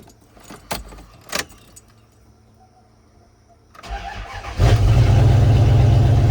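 A 1994-1995 Dodge Ram 1500 pickup starts after an oxygen sensor replacement: a few key jangles and clicks, then a cranking engine that catches and settles into a loud, steady idle nearby.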